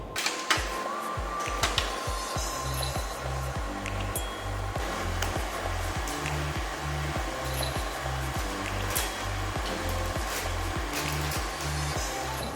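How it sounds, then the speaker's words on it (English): A stand mixer beats gluten-free chocolate sponge batter, giving a steady loud motor drone with a regular low thumping pulse, faint clinks and ticks throughout, and no voices. "I'm going now to put it back in the machine and start to mix for another"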